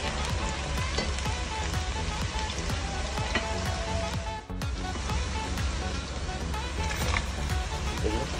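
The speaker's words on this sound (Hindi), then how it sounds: "सबसे पहले इसको भून लेंगे।" Chopped garlic fries in oil in a pan, a steady close crackle and sizzle with brief gaps, continuing under a woman's spoken Urdu or Hindi.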